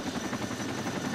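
A helicopter in the Arma 2 video game hovers with a continuous whirring rotor beat, steady and fairly close, filling the short stretch with no voices.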